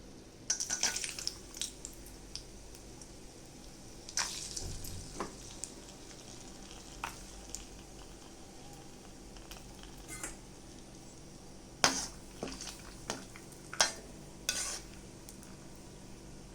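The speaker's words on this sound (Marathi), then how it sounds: "आता याच्यात ह्याच तेलामध्ये आपण थोडेसे बदाम फ्राय करून घेऊया." Almonds frying in hot oil for sabudana chivda, a steady low sizzle with occasional sharper crackles and clinks of a utensil against the pan.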